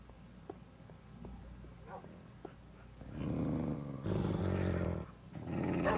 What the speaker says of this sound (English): look at all these dogs